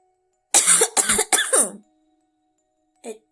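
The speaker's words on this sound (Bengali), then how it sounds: "ভদ্রলোক কেশে গলা সাফ করে হেরে গলায় সুর ধরে আওড়ালেন" A man coughs hard three times in quick succession to clear his throat, close and loud, then gives one short, softer cough a moment later.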